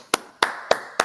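A few people clapping for a speaker's introduction at a community gathering, four distinct sharp claps spaced evenly apart, fairly close, with no voices over them.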